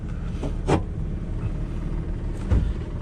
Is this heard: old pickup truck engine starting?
yes